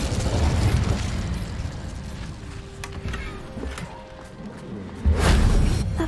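Incendio fire spell cast in the video game Hogwarts Legacy, a dense roaring burst of flame and magical whoosh, loud and close, swelling again near the end with a fresh eruption.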